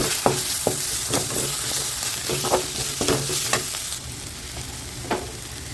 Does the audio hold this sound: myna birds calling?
no